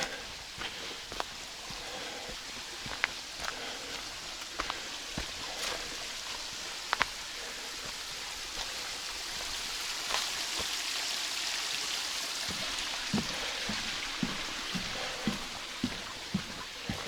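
A creek flowing through a winter gorge makes a soft, steady hiss and trickle, faint and continuous, with scattered sharp ticks and clicks.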